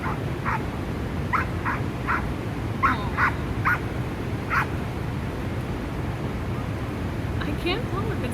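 A dog barks in a series of short, evenly spaced yips at a moderate distance, over a steady outdoor background rumble.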